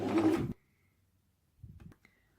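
A domestic sewing machine runs in a short, loud burst of stitching on a bag organiser, then stops; after a pause of about a second comes a quieter second run.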